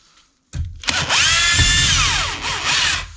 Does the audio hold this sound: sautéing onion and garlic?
no